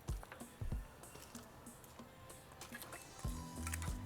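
Ribs with half a cup of water and bay leaves are stirred in a pot over medium-high heat, giving soft wet squishing and sloshing with a few clunks, steady and close, with no talk.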